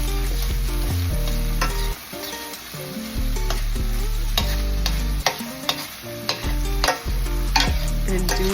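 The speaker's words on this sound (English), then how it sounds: "we're going to saute those onions that we sliced up earlier" Sliced onions sauté loudly in a hot pan with a constant sizzle, while a utensil stirs and scrapes in irregular strokes and clanks against the metal.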